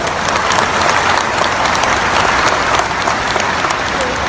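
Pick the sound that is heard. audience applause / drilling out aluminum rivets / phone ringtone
audience applause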